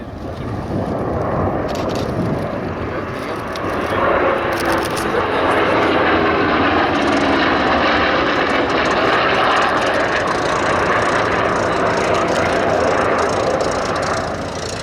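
Piston-engine warbird making a fast pass at the Sywell Airshow 2024, a loud, broad, continuous engine roar that builds and holds with some wind buffeting on the microphone.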